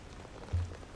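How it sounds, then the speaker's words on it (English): Heavy rain in the video game GAMMA, a dense, even hiss of falling water with a brief low thump partway through, short and steady, no talking. "Just like a solid block of rain coming down."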